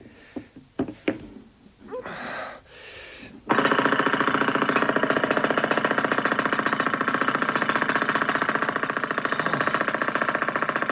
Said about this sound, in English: I can't do it, even with a pneumatic drill. The floor's just too hard.